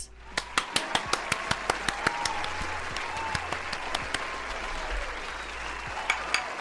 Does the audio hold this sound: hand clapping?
yes